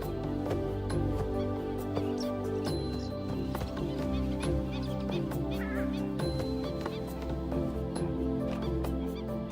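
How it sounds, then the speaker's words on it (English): Loud, harsh, repeated calls from a purple swamphen ring out over a dense, layered background of other birdsong and outdoor ambience in Thailand. "also called the sultana bird, famed for its very loud, explosive call"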